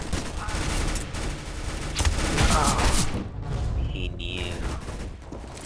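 Gunfire from the video game Counter-Strike: Global Offensive in Arms Race mode, a dense, loud run of shots and thumps through most of the clip, with someone talking over it.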